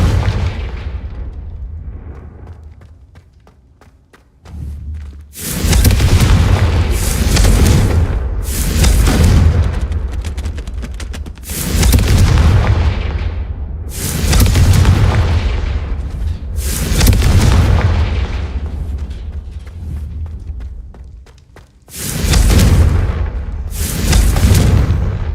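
Repeated Confringo fire-curse blasts in the video game Hogwarts Legacy: about eight loud, booming explosions in a steady irregular series, each with a long roaring tail, following a quieter opening.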